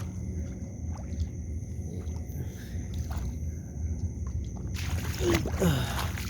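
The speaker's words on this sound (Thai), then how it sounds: "น้ำไหลออก" Water flows out through a gap in a rice-field dike where fishing lines are set, a steady trickling and gurgling close by, with a louder sloshing burst near the end.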